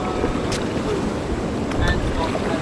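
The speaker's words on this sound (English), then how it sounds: "so with Mark, we're at the front of the boat." From the front of a boat on the water near Tully, Australia, a rushing roar of wind buffets the microphone while the hull moves along, loud and close, with a voice talking over it.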